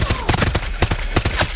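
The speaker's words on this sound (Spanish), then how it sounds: "esta sí mata de un disparo a la cabeza" Rapid gunfire from a weapon in the video game Far Cry 6 bursts out in a dense, loud stream of sharp shots with uneven spacing.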